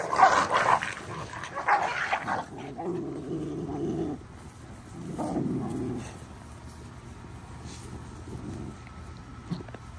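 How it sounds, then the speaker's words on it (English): A brown and white dog growls low and rumbling at a food bowl, with a few sharper yips and whimpers from other dogs, close and moderately loud, and nobody speaking. "that brown and white one over there is the one doing all the growling"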